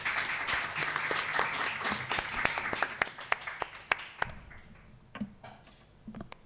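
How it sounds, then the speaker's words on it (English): Audience applause for panel speakers at an evening event on decriminalising same-sex acts in Asia and the Pacific, a dense burst of clapping that thins into sparse, separate claps and fades out. "Can I please have a round of applause for our speakers?"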